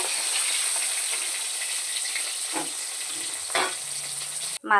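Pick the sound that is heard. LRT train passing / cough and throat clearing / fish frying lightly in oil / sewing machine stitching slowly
fish frying lightly in oil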